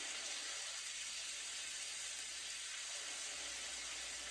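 Chicken cooking in a pan gives a soft, steady, even sizzling hiss, fairly quiet and unbroken, with no talking.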